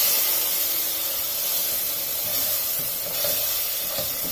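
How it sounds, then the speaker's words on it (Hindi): Milk poured onto roasted semolina in a hot pan gives a steady, loud broadband sizzle and hiss that barely wavers, with faint stirring scrapes underneath and no talking. "अब हम इसमें दूध डालेंगे और फिर इसको पकने देंगे।"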